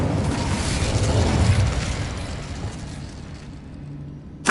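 Burst of the Incendio fire spell in Hogwarts Legacy, a roaring whoosh of flame that swells and fades over a few seconds, ending with a short sharp hit.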